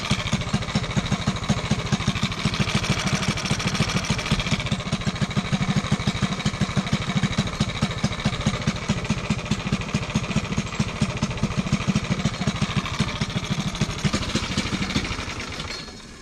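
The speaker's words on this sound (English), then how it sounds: "Ben's engine change is complete and it runs" An LO206 kart engine runs steadily just after an engine change, a loud, close, rapidly chugging single-cylinder putter holding even for about fifteen seconds before cutting off, with no voices.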